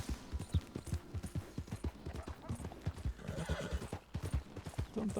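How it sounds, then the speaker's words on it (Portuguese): Hooves clip-clop steadily as a horse trots in a video game, a brisk continuous rhythm with a horse whinnying over it, moderately loud with no talking. "O cavalo, pensei que deu uma endoidada ali."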